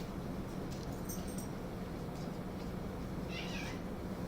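A pet cat that was just stepped on lets out brief meows over a steady indoor background hum, short and faint, with no voices.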